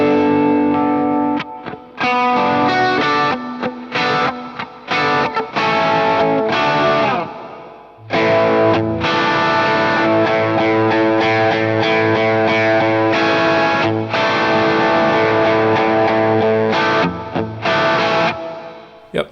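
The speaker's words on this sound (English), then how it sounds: "And so this one's my more drivey amp, and it sounds like this." Overdriven electric guitar played through a digital Dumble-style amp model on a Line 6 HX Effects unit, loud and crunchy with a string of chords and riffs, brief gaps between phrases, alone without voices.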